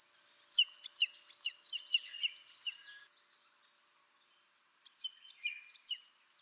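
An Andaman Serpent Eagle gives a quick series of five or six short, high chirp-like whistles, then after a pause a second shorter burst of three, moderately near, over a steady high insect drone.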